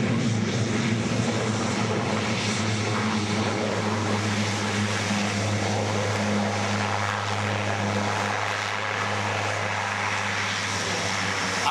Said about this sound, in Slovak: Ako vidíte, pristátie bolo skutočne krátke.